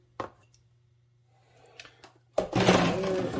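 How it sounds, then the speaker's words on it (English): Stir-fry hitting a hot pan, starting with a few soft clinks and bumps, then a sudden loud, steady broadband sizzle that fills the last second of the clip with no talk over it. "stick this on so you can hear it start to sizzle."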